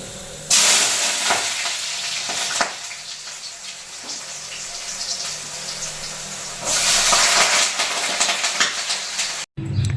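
Beetroot fry and spinach dal cooking in a pan, a steady close sizzle and frying hiss throughout, swelling louder toward the end with occasional stirring scrapes.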